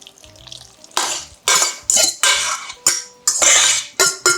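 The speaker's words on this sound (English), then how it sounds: "you're just going to grab some of it and just mix it together, just on the side like this, just pulling in the flour" Dry bread batter mixed by hand in a bowl, flour pulled in from the side for a plant-based loaf: a run of close, rough scraping and stirring strokes in short repeated bursts, with no talk.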